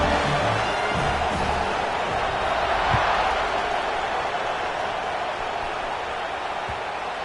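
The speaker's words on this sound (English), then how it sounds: "this crowd is buzzing after that last score" Stadium crowd in an American football video game buzzing after a score, a broad steady roar of cheering and murmuring throughout the clip with a commentator talking over it.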